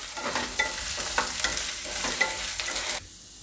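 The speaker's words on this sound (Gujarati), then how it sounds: "બટેટાને વચ્ચે વચ્ચે હલાવતા રહેવું." Potatoes frying in hot oil in a kadai are stirred with a spoon: a steady close sizzle broken by repeated scraping stirs about every half second, with no talk, cutting off abruptly near the end.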